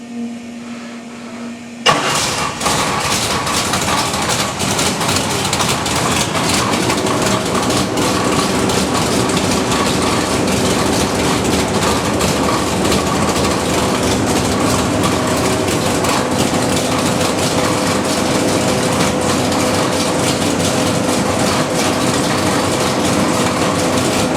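A 540 big-block street engine on a dyno starts up and then idles loudly and steadily with a rough, continuous rumble that fills the whole stretch.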